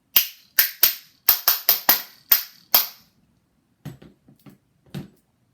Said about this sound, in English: Spoons play a part in many different cultures today.